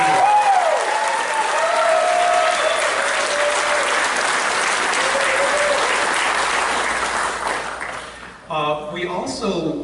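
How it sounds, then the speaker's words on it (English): Loud, sustained applause from a convention audience at the Megaplex 2018 closing ceremony, a dense continuous roar of clapping that fades out before a voice speaks at the end. "Again, big round of applause."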